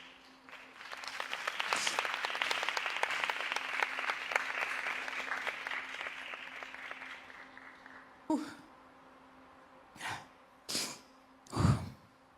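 A standing crowd of country delegates and audience members at the Miss World pageant breaks into sustained, dense applause that rises and then slowly fades, followed by a few sniffles and breaths.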